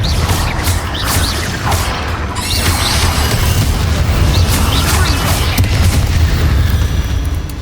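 Spell blasts and explosions boom repeatedly during a goblin battle in the video game Hogwarts Legacy, dense overlapping impacts with magical whooshes, loud and continuous across the whole stretch.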